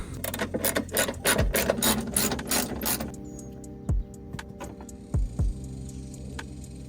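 A hand ratchet clicks rapidly in bursts while 10mm bolts come off a car's tail light bracket, followed by a few slower, separate clicks and clunks nearby.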